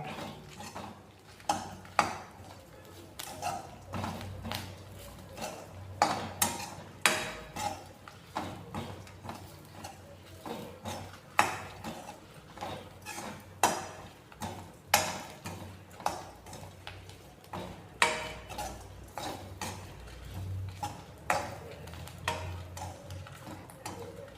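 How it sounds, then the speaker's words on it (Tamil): A spatula scrapes and taps against a pan while grated coconut is stirred and dry-roasted. Sharp, regular clicks and scrapes repeat close up for over twenty seconds, with no talking. "தேங்காய் இப்படி நல்லா வறுபட்டு வருதுங்க"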